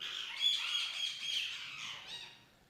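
Exotic birds in a colony-style breeding aviary without dividers squawk and chirp together, a dense, loud chorus of overlapping harsh calls and whistles that gradually fades.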